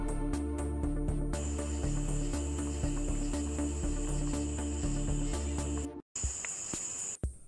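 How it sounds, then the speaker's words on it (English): Loud crickets chirp outdoors at night at a campsite, a steady high trill running continuously over a rhythmic background track, dropping out briefly near the end before resuming. "those bugs are loud"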